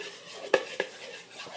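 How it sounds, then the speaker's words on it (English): Goodey ball mixture is stirred in a bowl, giving two or three soft clinks and scrapes of a spoon against the bowl over near-silence. "You stir it up and would stir it up"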